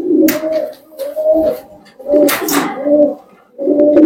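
Fancy pigeons, including colour-head birds, coo in a loft in several close, low, rolling phrases with brief pauses between them, and faint wing or body rustles come in between the calls.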